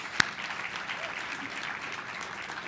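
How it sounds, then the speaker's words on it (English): Attendees at the 2015 Connected Health Symposium closing session applaud the conference staff, steady moderate clapping from a sizable audience, with one sharp louder clap standing out near the start. "I also can't resist again asking you all to give a round of applause to my staff"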